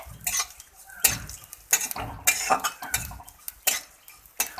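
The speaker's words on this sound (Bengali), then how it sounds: "এবার শুটকি মাছগুলো আমি হালকা করে ভেজে নেব তেল দিয়ে" Dried shrimp frying lightly in hot oil in a pan, heard mostly as a utensil repeatedly scraping and clinking against the pan in irregular bursts, close by with no talking.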